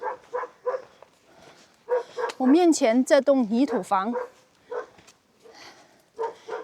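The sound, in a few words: big dog barking at strangers in mountain village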